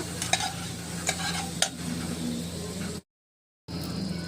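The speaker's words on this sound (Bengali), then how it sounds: "আলুগুলো ঠিক হালকা লাল লাল করে ভেজে নেওয়া হয়েছে।" Potatoes frying in oil sizzle steadily up close, with a few sharp spatula clicks early on, then a short gap of silence before the frying resumes.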